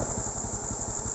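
A motorcycle engine idles steadily nearby, a low rhythmic putter with constant vibration and no voices.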